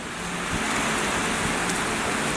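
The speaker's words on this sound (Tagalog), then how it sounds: "Tingnan nyo, umuulan na sa labas." Steady rain falls outdoors in Australia, a dense, even hiss with soft patter that holds at a constant level for the whole stretch, with no voices over it.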